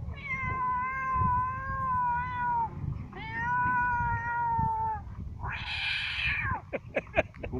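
A voice mimics a cat with two long, drawn-out meows, then a sharper, higher yowl that breaks into short bursts.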